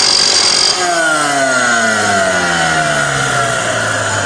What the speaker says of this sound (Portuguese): Eu estou usando a esmerilhadora para fazer a limpeza